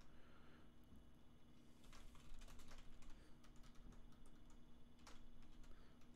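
Quiet, continuous keystrokes from a loud computer keyboard, with irregular bursts of clicking and a few sharper taps over a steady hum, no voices present.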